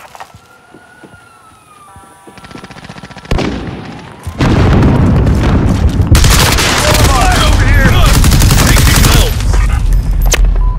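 Call of Duty Modern Warfare gameplay in a Domination match in St Petrograd, with a grenade blast followed by loud, sustained bursts of gunfire up close, alongside a siren-like wail and shouted voices.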